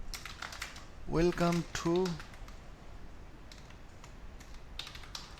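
Keys clatter on a computer keyboard as someone types in Microsoft Word. The clicks come in quick, fairly close bursts, and someone speaks briefly partway through.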